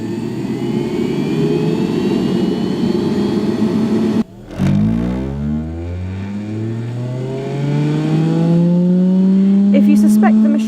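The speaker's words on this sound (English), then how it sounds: "Close the lid of the centrifuge and press go." A laboratory centrifuge runs with a low rumbling hum, then after a brief clunk a whining motor tone sweeps steadily upward as it spins up to speed, loud and close.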